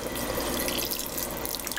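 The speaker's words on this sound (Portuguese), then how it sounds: "eu vou precisar colocar pelo menos mais meio litro de água" Warm tap water pours steadily into a container, a continuous close splashing rush with no voices.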